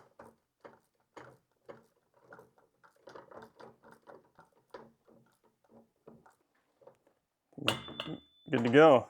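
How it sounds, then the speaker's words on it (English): A wrench tightens the rim lock on a small dirt bike wheel in a run of quick, faint metallic ratchet clicks, close by, followed by a short burst of voices. "Last thing, we'll cinch down that rim lock."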